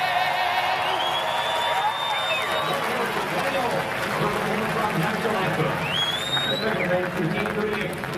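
A large outdoor stadium crowd at the 2010 Price Chopper 400 race cheers and roars steadily on a crisp early fall afternoon, with whistles and shouts rising over the continuous din.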